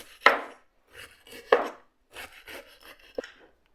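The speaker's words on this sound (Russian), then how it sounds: "Капусту я порезала." Knife chopping about a kilogram of cored cabbage: a few sharp, separate cuts spaced through the moment, then softer scattered chops, all close and with no talk.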